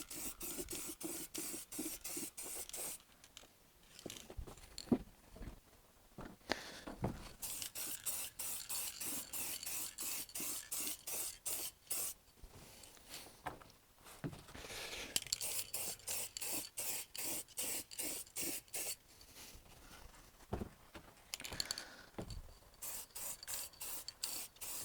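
Undercoat primer and then silver paint are sprayed onto the front face of a steel wheel during its restoration, in short hissing bursts separated by pauses, close and fairly loud, with no talking.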